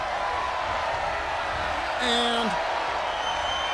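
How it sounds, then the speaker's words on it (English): A roaring arena crowd cheering in the wrestling game WWE 2K23, a steady wash of noise with a brief whoop rising midway, while a commentator talks over it. "She's alive, and the crowd is going wild."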